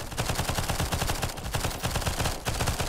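Dense, rapid gunfire from enemies in the roguelite survival shooter Nimrods, a continuous stream of overlapping shots that stays loud throughout with no pauses.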